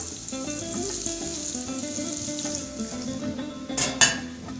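Carrots frying in hot oil for a chef's dish of lamb chops with Atlas herbs and spaghetti-cut vegetables give a steady, close sizzle, with a brief clatter of pan or utensil near the end.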